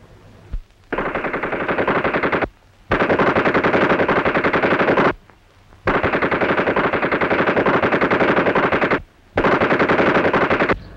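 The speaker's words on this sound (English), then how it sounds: "Machine gun practice." Machine-gun practice fire from a 1930s Foreign Legion setting: long, loud sustained automatic bursts lasting a couple of seconds each, separated by short pauses, with no voices over them.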